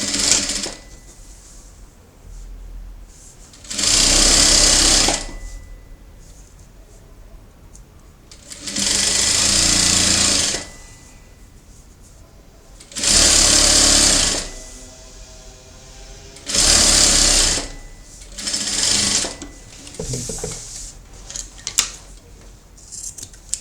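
A sewing machine stitches a double-sided skirt for a rag doll in five loud runs of a few seconds each, separated by quieter pauses with light handling noises, no talk.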